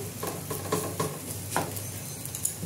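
A potato paratha lands in a hot pan and fries with a steady sizzle, broken by a few soft scraping strokes; close and fairly quiet, no voices.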